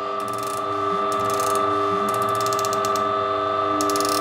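An Allground coffee grinder is adjusted toward finer settings, a close mechanical ratcheting in quick clicking runs over a steady tonal motor hum, with soft clunks in between.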